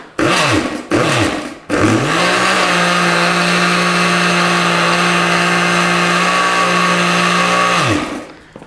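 Hot liquid is pulsed in a kitchen blender with the lid held down: two short loud bursts, then a long sustained whirring run that winds down at the end, close and loud.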